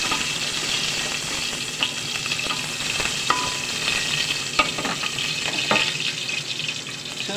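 Ingredients sautéed in oil in a pan, a continuous close sizzle with occasional clinks and scrapes of stirring, no speech.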